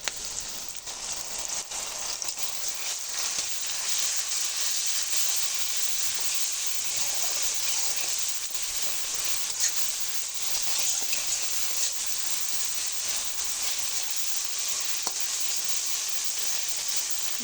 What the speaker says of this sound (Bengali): মাছ আর মশলা আমার ভালো করে ভাজা হয়ে গেছে